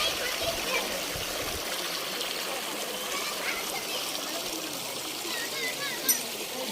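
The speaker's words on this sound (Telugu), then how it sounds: "అందులోంచి వస్తున్నాయి వాటర్. ఇవి చూడండి ఎంత ఫాస్ట్గా పోతున్నాయో" Water rushes fast in a steady broadband wash, like a stream pouring from an outlet, with faint splashes and a voice briefly in the background.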